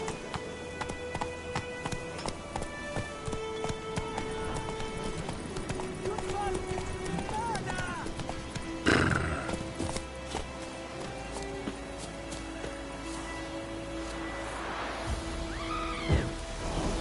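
A horse gallops in The Witcher 3 video game, rapid clip-clop hoofbeats running steadily under rain-like ambience and game sounds, with voices talking over them.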